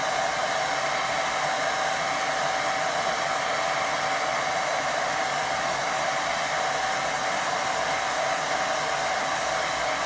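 A hair dryer blows continuously over a watercolour painting to dry it, producing a steady, loud whirring hiss with a faint whine and no pauses or talk.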